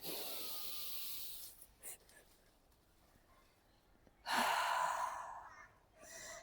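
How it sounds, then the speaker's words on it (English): Someone draws a slow, deep breath in, then a second long inhale follows after a pause, soft and close with faint airy hiss and a quiet room behind. "Breathe in."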